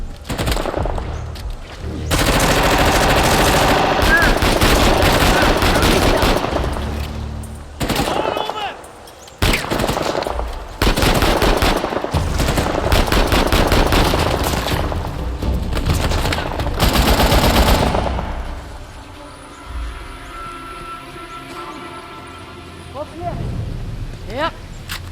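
Sustained machine gun fire rattles loudly in the video game Uncharted: The Lost Legacy, long bursts with brief gaps, fading into quieter game ambience toward the end.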